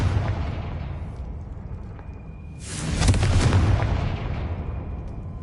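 A Confringo blasting spell from Hogwarts Legacy detonates with a loud, broad roaring explosion midway through, then rumbles and fades back into the steady game ambience.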